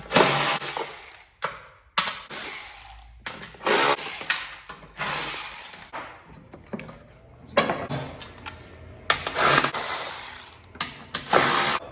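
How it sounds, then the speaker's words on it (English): A ratchet with a 10mm socket clicks in short, repeated bursts while removing the mower deck covers on a John Deere S140 lawn tractor, close and fairly loud, separated by brief pauses. "We do have to take off the covers. This is a 10mm socket."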